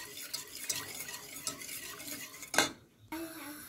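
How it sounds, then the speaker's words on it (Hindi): A spoon stirs milk into a white sauce in a pan, scraping and clinking steadily and close, with one brief louder scrape near the end. "और इसको बराबर चम्मच हिलाते जाते हैं"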